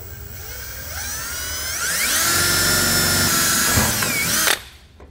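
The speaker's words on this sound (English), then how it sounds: "I'm just going to use a 5/16 drill and bit, and we just want to drill all four of those holes out." A power drill with a 5/16 bit bores holes into a 2019 Volvo during a hidden trailer hitch install, its whine rising in pitch and holding loud and close before cutting off.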